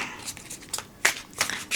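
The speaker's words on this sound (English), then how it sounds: "overhand shuffling is pretty good" An overhand shuffle of a tarot card deck (Warm Hug Tarot) makes brief, close papery riffles and soft slaps in several quick bursts, with no talk.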